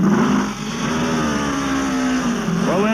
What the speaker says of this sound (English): Listen to the Honda.